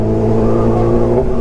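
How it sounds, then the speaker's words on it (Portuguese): A Honda Hornet motorcycle with a straight-pipe exhaust drones steadily and close by as it accelerates, its pitch holding level with a slight rise, in one short burst with no speech. "Tá forte a moto?"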